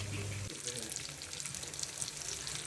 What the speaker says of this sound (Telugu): షాలో ఫ్రై చేసినప్పుడు ఆయిల్ని లో ఫ్లేమ్లో పెట్టుకొని అప్పుడు ఫిష్ని ఫ్రై చేసుకోవాలి.